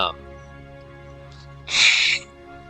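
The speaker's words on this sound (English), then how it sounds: "Blow my nose." A person blows their nose once in a short, loud honking burst close to the microphone, following a quiet stretch with faint background tones.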